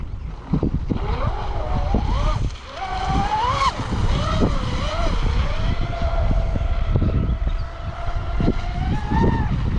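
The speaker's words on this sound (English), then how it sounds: "Really putting some trim into this boat though." A radio-controlled boat fitted with a Zonda XC-ESC or WT200 ESC runs at speed, its motor giving a loud, steady high-pitched whine that rises and falls as it turns and briefly goes airborne, with faint voices underneath.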